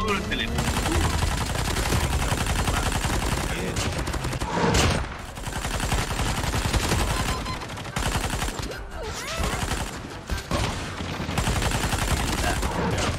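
Dense, overlapping bursts of gunfire from several weapons in the Call of Duty Mobile shooter game, nearly continuous and loud, with a brief lull near the middle.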